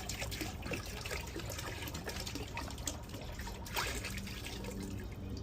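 Descaler solution for a tankless water heater flush is poured into a bucket, giving a faint, steady liquid trickle and splash for several seconds, with no talking.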